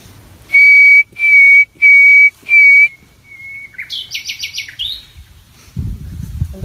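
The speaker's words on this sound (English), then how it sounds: "bird responded again, and not only using a whistle, but something much more complex that John might not be able to whistle back" A songbird answers a human whistle: four loud, steady whistled notes of equal length, then a short pause and a faint quick series of complex chirps and warbles, ending with a low rustle.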